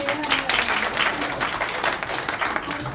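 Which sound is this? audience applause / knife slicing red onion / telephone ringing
audience applause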